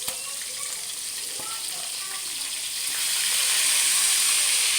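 Marinated meat sizzling steadily in a hot frying pan, a dense close hiss that swells louder partway through as the pieces are flipped, with a few faint clinks and no voices.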